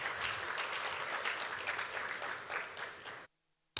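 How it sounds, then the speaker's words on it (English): An event audience gives the Commission sustained applause at an oil industry initiative launch, a dense, steady roar of many hands that cuts off abruptly into silence. "I think the Commission deserves a better round of applause,"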